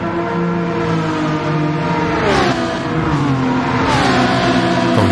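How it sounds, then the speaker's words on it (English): Race cars in Gran Turismo 7 roar loud and continuous down the Monza front straight, engine pitch climbing and dropping with gear shifts as they run side by side. "The two are racing each other down the front straight."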